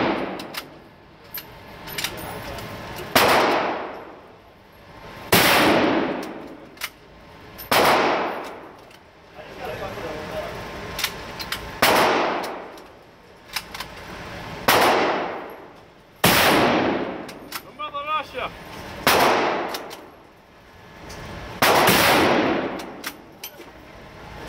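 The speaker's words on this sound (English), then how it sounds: "He's shooting a badass Russian rifle." A Russian rifle fires about ten loud, close shots at uneven intervals, each blast followed by a long ringing echo that slowly fades before the next.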